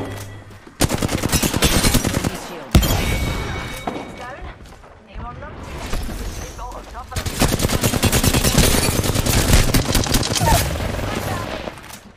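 Rapid automatic gunfire bursts in an Apex Legends firefight, loud and close, coming in several long rattling volleys separated by short gaps, with teammates talking over the shooting.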